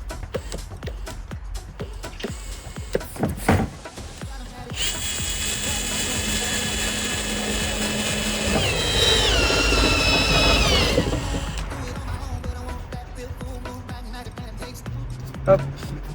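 Power drill boring a hole for a fitting on a clean-water tank being installed in a converted van, a steady whirring run of several seconds that strains and shifts pitch near the end, with someone talking and tool clatter around it.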